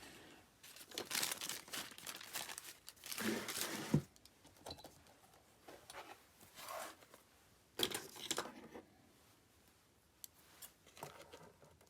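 Paper tearing and crinkling as scraps are ripped away while decorating a junk journal's inside cover, in several close, bursty rips and rustles with quieter pauses between.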